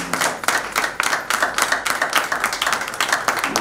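Wedding guests clap loudly in a close, dense burst of applause with distinct individual hand claps running throughout.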